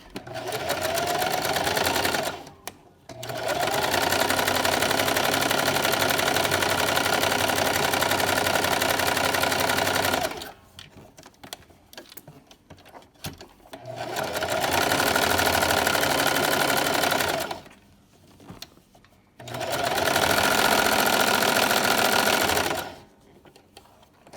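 Sewing machine running a zigzag stitch on a baby sleeper seam, in three long, steady, loud bursts separated by short pauses with handling noise.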